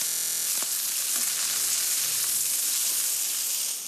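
Prawns frying in a little oil give a loud, dense, continuous sizzle that starts abruptly and holds steady, with faint stirring underneath and no talk.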